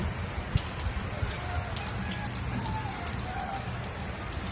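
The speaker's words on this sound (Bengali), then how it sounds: "এই যে অনেক বৃষ্টি হচ্ছে" Heavy rain pours steadily outdoors, a dense, even hiss of drops drumming on surfaces throughout, with a few sharper splats and no talk over it.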